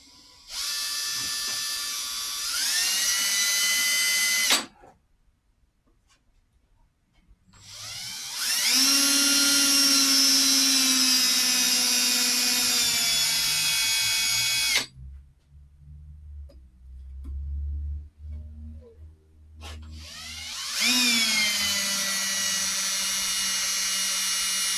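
Power drill bit grinding into a very hard bolt during a V6 KLDE engine swap on a Mazda Protege5 wagon, three long high-pitched whining runs with pauses between, close and loud.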